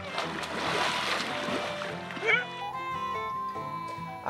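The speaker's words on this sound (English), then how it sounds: "After a little bit of splashing on the beach" People splashing in the shallows of a lake beach on a canoe trip in wild Wabakimi, soft watery splashes in the first half, then fading under faint music or background tones.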